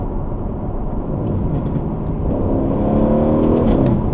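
A car engine revs up steadily and loudly as paddle shifters drop it down to third gear, a continuous rising engine drone with climbing pitch toward the end.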